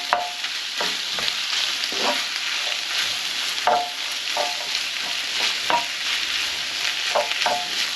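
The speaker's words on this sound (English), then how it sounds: "just let that continue to go, and that'll soften down them onions as well" Onions frying in a pan for a chicken and bacon pasta bake, a steady close sizzle with repeated spoon stirring and scraping throughout, no talk.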